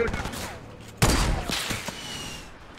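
A rocket fires and explodes in Fortnite Battle Royale as a sudden loud blast about a second in, followed by a few lighter crackling hits and quieter game sounds.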